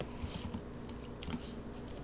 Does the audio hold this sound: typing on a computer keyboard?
yes